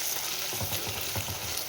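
Coriander seeds and spices fry in a pan for mutton keema curry, giving a dense, even sizzle with soft rhythmic stirring scrapes that sit close and alone.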